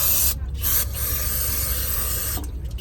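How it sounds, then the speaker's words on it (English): Brake and carb cleaner sprays in a steady, loud aerosol hiss at close range, broken by a few short pauses where the nozzle is released, while parts are cleaned during a DD15 fuel filter change. "it's brake cleaner"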